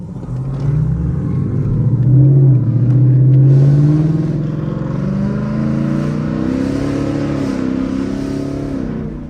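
A Ford Mustang GT's engine revs up and drops back repeatedly in city driving, its pitch sweeping up and down with throaty rumbling, loud and close, like downshifting through gears.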